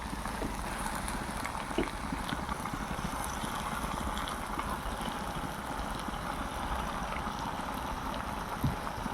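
Chicken frying in a coriander-powder masala for a drumstick chicken curry, giving a steady, dense sizzle and bubbling that runs throughout at close range with no talking.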